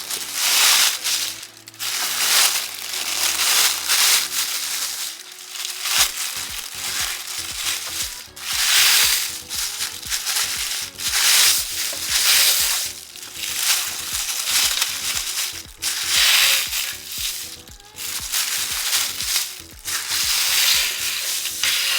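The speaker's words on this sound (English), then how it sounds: "So here's my plastic bag, and we want to flatten it down." A plastic bag being flattened and crinkled close up, a dense run of crackling rustles and scrunches continuing steadily with brief pauses.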